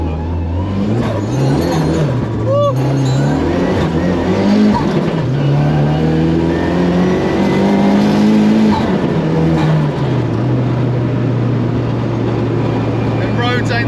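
A Mk2 Ford Escort fitted with a 2.3 Ecoboost engine accelerates hard on a road, its loud engine note climbing through several gear pulls with brief dips between shifts, heard from close by throughout.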